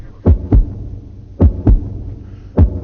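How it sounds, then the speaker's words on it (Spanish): Heartbeat played through an amplified sound effect, three clear lub-dub pairs of deep thumps in a slow, regular rhythm, loud and close over a low hum, with no voices. "¿Esto es latido de qué?"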